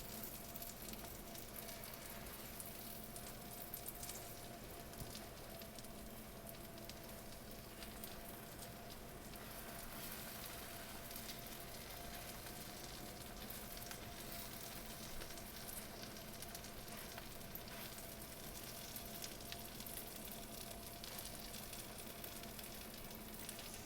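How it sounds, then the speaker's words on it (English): A grilled cheese sandwich frying in butter in a pan gives a steady, even sizzle and crackle that continues alone without a break. "kind of stir things around a little bit in the pan and make sure I get a little extra butter everywhere"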